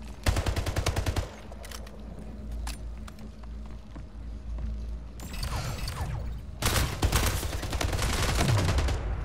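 Rapid bursts of automatic gunfire in the online shooter Splitgate, loud and close, with a heavy volley at the start, quieter mechanical clatter in the middle, then more sustained shooting toward the end.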